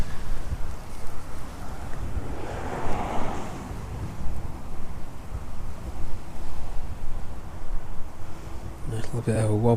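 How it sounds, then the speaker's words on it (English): Strong gusty wind from Storm Amy roars across East Midlands airport, a loud broadband rush that swells and eases in gusts, with a brief clatter at the very end. "it battles the wind as those gusts really start to pick up now"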